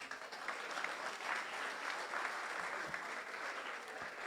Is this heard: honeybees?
no